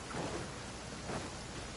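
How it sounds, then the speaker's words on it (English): Steady rain falling in the Genshin Impact video game, a soft continuous hiss with a faint low rumble beneath, fairly quiet with no voices. "Appreciate it's raining right now."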